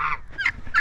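Turkeys and chickens calling on a pasture-raised farm in Florida, two or three brief, close gobbling squawks in quick succession within under a second.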